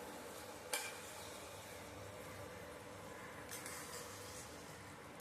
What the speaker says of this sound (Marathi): एकदा हलवून घेऊया.